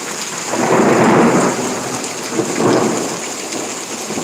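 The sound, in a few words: thunder and rain during a thunderstorm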